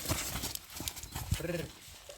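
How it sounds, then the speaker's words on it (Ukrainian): Hooves of horses, mares being brought in on a Ukrainian farm, clip-clop in an uneven series of faint taps, with a short whinny-like sound partway through and a voice murmuring in the background. "Василь приїхав кобилами"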